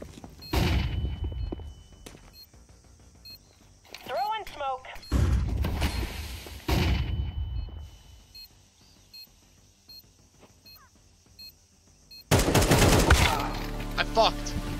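Sharp bursts of Counter-Strike 2 gunfire crack out in separate volleys, loud and close, with quieter gaps of game ambience between them and a heavy final barrage. A player's voice talks in the gaps.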